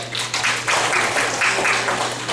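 Audience applause at a university lecture on interactive teaching with smart devices, a brief burst of clapping from a modest crowd in a room, fairly close, with a steady low hum underneath.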